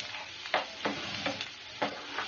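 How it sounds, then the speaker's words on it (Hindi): Green chilies and turmeric powder are stirred in a pan, making scraping, swishing strokes at an uneven rhythm over a light sizzle of hot oil. No voices are heard. "मैं इसमें हरी मिर्च डाल दूंगी और मैं इसमें हल्दी पाउडर भी ऐड कर दूंगी और इसे अच्छे से चलाऊंगी।"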